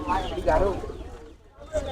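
Pigeons at a small pigeon market in Shimulia, Purbachal, give soft, close coos, with a person talking over them.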